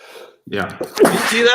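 A person sneezes once, sharp and close, breaking into a casual conversation about X-Men comic creators, with talking before and after.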